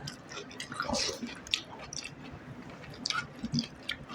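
Close, wet chewing of rice with mutton curry, soft squishy mouthfuls and small smacks in an uneven rhythm, heard alone for a few seconds.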